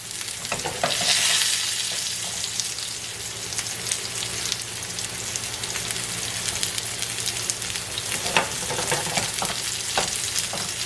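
Mushrooms fry cut side down in a single layer in a hot pan, a continuous dense sizzle and spitting close by, steady throughout with no talking.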